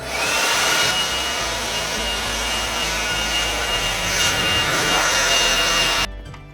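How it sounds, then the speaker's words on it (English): A DeWalt cordless tool blasts air to drive dust out from under a couch indoors: a loud, steady rushing whoosh held close for several seconds that cuts off abruptly near the end. "I got my DeWalt cordless trimmer here, and I'm just gonna start at one end of the couch and get the dust towards you here"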